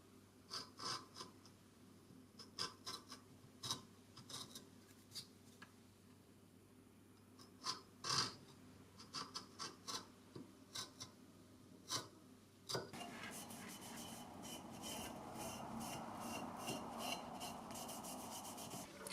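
A chisel rounding over a wooden gouge handle, producing quiet scraping and rubbing strokes in irregular bursts, shifting to a steadier continuous rasp in the later part.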